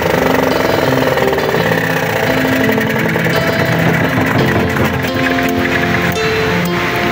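A generator engine runs steadily nearby, a loud, continuous mechanical chug with a rough, rattling texture and no break across the stretch.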